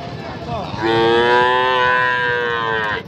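Cattle moo at a Bangladeshi cow market where Sahiwal and Indian calves are sold, one long, loud, drawn-out bellow close by, rising over a murmur of background noise.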